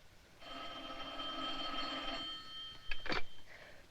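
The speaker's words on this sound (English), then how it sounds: "Answer the phone." An old 1940s telephone bell rings in one sustained metallic trill, then breaks off as the receiver is lifted with a short clatter, no voices heard.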